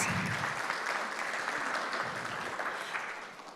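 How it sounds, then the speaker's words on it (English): Audience applause at a budget vote event, steady and moderately distant, sustained throughout and fading slightly at the end, with no talking. "Give yourself a big clap of hands."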